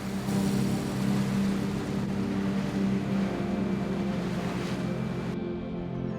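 A boat motor drones steadily with a low hum on Lake Como, water washing around the hull, continuous and fairly close.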